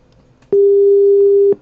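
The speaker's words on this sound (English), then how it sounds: "that's a basic sine wave that is 400 hertz" A pure 400 Hz sine wave tone, steady and even, sounding alone for about one second with abrupt start and stop.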